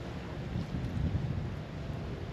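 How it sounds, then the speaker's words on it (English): Strong wind buffets the microphone on a small fishing boat on Florida water in winter, a steady loud rumbling roar with no clear voices. "this wind is ridiculous."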